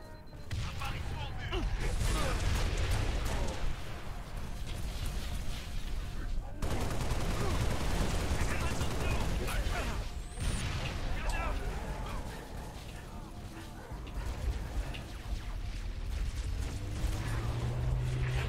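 Gunfire in the video game Halo: Reach: sustained loud bursts of automatic fire and explosions fill the whole stretch, with brief lulls and someone speaking over the shooting.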